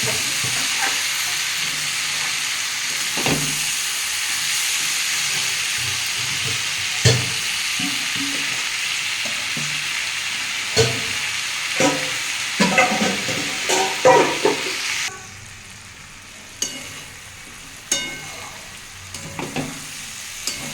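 Malabar spinach seeds (pui mituli) fry in a pan with a continuous loud sizzle and scattered clinks of stirring, close by; near the end the sizzle drops suddenly and only a few scrapes and taps remain.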